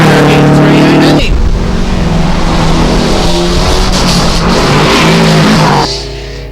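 A BMW 318 race car screams up a hillclimb course at full throttle, loud and close, the engine note shifting through gear changes before it suddenly drops away near the end, with a commentator's voice underneath.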